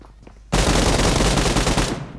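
Dense, sustained automatic fire from an ASM rifle in the PUBG Mobile video game, a loud unbroken burst starting abruptly after a quiet moment and running nearly two seconds.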